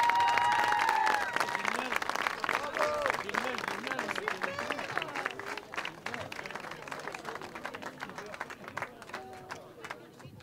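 Sustained clapping from an award-ceremony audience, loud and continuous, with a voice speaking over it at first and crowd chatter mixed in as the applause gradually thins.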